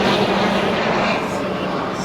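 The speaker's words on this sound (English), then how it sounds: "Oh, that's a funny looking plane. It's a black one." A black unmarked airplane passes overhead, producing a steady, loud broadband engine roar with a low hum that fades slightly toward the end.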